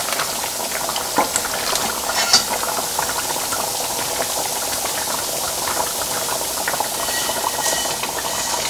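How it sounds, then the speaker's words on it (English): Roasted arbi (taro) pieces tumbled into a thickened South Indian curry in a pan, bubbling and sizzling steadily with light stirring scrapes throughout, no voices. "Now what we are going to do is add our roasted arbis to this"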